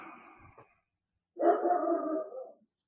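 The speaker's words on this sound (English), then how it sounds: "We get the dogs barking." A dog gives two drawn-out barking howls, the first shorter and fainter, the second louder and held for about a second, with a near-silent gap between them and no voices.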